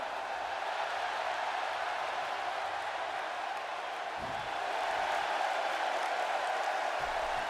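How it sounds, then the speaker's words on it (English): A WWE 2K18 video game crowd at a Raw wrestling show in Liverpool cheers and applauds steadily, a broad distant roar of many voices that swells slightly partway through. "this sounds like Liverpool crowd want it too"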